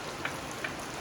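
Steady rain falling outside a garage, a dense even hiss with a couple of faint drip taps, no voices.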